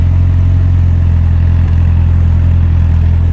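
A Peugeot 205 GTI 1.9 idles with a steady, loud low drone from its engine and exhaust, heard close and unchanging throughout, with no voices.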